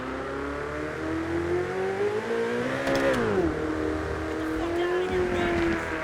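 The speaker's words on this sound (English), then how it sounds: "Downshifts just sound phenomenal." A Ferrari F8 Tributo in GTA 5, driven with a wheel, holds a steady engine tone, then the pitch sweeps sharply up and back down in a clear downshift, followed by a settling tone with faint crackles, while someone talks.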